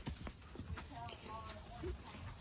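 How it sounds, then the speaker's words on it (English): A horse ridden through trees while checking a fence line: irregular hoof clip-clops and rustling, fairly faint, with a voice talking now and then. "So my horse doesn't like staying on the path. He's going through the trees."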